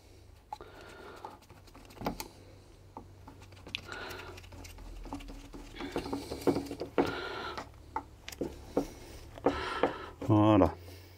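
Tightening a coolant hose fitting on a Peugeot RCZ: faint clicks, ratcheting and small metallic scrapes come in scattered bursts, close by, ending in a louder clatter, while someone speaks intermittently.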